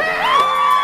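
Church congregation at a Praise Sunday service screaming and cheering together, a sustained, loud wall of high voices that swells briefly and holds steady throughout.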